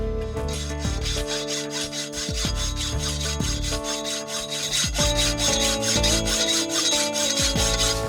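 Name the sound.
sanding a garden pole before painting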